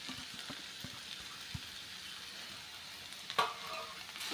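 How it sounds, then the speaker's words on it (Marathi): Brinjal and spring onion sautéing in a pan over high heat, a faint, steady crackling sizzle with a few soft taps and one brief louder scrape near the end. "पुन्हा एकदा परतून घेऊया आपण गॅस मोठा केला आहे"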